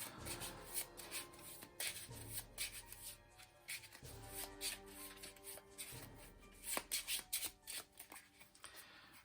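A deck of cards for the Legendary Encounters Alien deck-building board game is shuffled by hand in a solo playthrough, making quiet, close, repeated rubbing and riffling bursts in an uneven rhythm.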